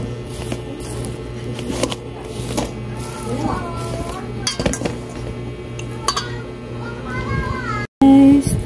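A spoon mixes mashed banana in a bowl for niluyang saging, giving scattered clinks and scrapes against the dish while children chatter and play nearby.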